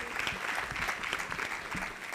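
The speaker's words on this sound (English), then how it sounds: "give the wonderful panelists a huge round of applause" Audience applause for a panel at an evening event, steady dense clapping from a crowd throughout, with faint voices mixed underneath.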